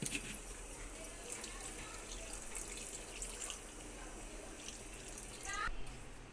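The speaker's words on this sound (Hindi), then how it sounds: "अब मैं इसमें इतना पानी डालूंगी कि आलू गल जाए।" Water is poured into a pot of potatoes while cooking a potato curry with yogurt, making a faint, steady splashing trickle with a few metallic clinks, fairly close but low in level.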